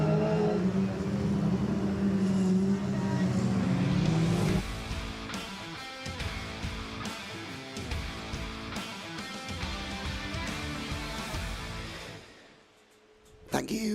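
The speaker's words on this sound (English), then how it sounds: "cars heading out onto the grid" Formula Ford race cars roll out onto the grid at a circuit, engines humming and revving in a steady, fairly loud drone that fades near the end, with a commentator speaking over it.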